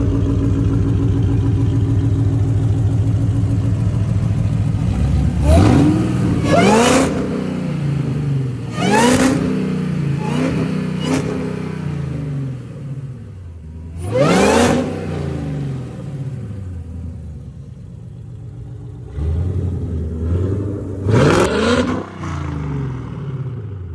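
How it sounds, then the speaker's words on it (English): A Hellcat-powered Chrysler 300 with a loud exhaust, idling with a deep burble then revved hard in several sharp bursts that climb and fall back, close and loud. "Like your exhaust is extremely loud."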